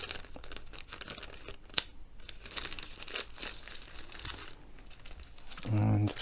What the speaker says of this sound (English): So just in a clear plastic bag, and we'll open it up.